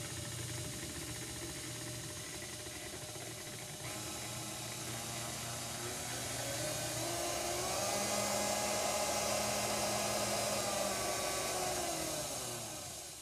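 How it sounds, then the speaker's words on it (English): A vintage Hamilton Beach Model G stand mixer runs after being repaired and reassembled, a steady motor whir with a faint whine that rises slightly in pitch and loudness partway through, then eases off. "Our mixer is back together. I've plugged it in. Let's turn it on and see what happens."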